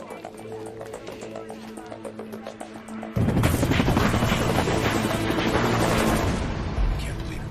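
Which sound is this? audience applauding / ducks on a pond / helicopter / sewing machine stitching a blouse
helicopter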